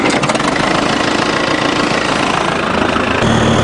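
The engine of a backhoe tractor runs loud and close, a steady, rough, knocking idle that continues without a break.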